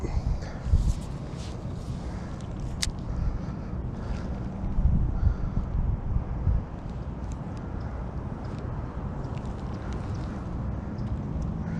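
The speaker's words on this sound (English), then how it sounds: "Got a little bit of wind." Wind at an outdoor freshwater fishing spot buffets the microphone in a steady low rumble with gusty swells, loud and continuous throughout.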